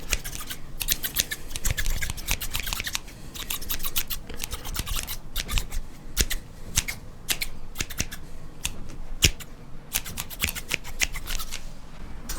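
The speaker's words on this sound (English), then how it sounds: "Some pair of scissors, when" A pair of scissors snips right up close, each cut a crisp, bright click. The snips come in quick irregular bursts and short runs, with no voices.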